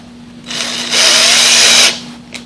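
A power drill drives screws into PVC pipes on a DIY pet hammock bed frame, spinning up briefly and then whirring steadily and loudly for about a second before stopping.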